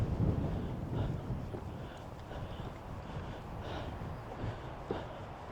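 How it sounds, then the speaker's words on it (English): Strong wind gusting across an open canyon rim in Yellowstone, a steady rough roar buffeting the microphone with bursts at the start and around the five-second mark, no voices. "the wind is certainly picking up pretty strongly"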